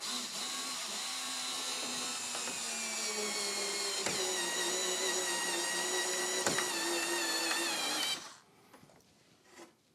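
A Parkside electric screwdriver with interchangeable heads runs with a steady high-pitched whine and a faint pitch wobble for about eight seconds, then cuts off abruptly, leaving quiet handling noise.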